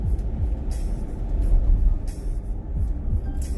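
A car idles and rolls to a stop behind a school bus on the road, a loud, steady low engine rumble with road noise and a brief hiss near the end.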